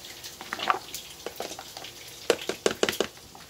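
Bacon with the rind on frying in a pan, a steady crackling sizzle with sharp pops and spits that grow busier and louder toward the end, close up with no talking.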